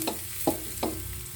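Garlic frying in a pan, a soft continuous sizzle with a few brief stirring scrapes, close and fairly quiet, no talking.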